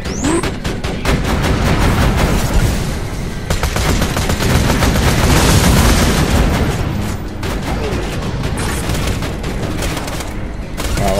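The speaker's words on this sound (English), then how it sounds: "dropping sentry! Watch the auto gun!" Automatic sentry gun in Borderlands 2 firing in long, rapid, relentless bursts, loud and close, with booming impacts mixed into the constant rattling stream.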